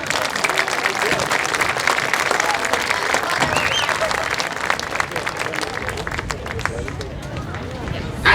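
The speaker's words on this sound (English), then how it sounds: "Let's give these students a huge round of applause for their outstanding effort." A large audience at a marching band's parent preview show breaks into loud, sustained applause for the students, a dense, steady roar of clapping with crowd noise that holds for the whole stretch.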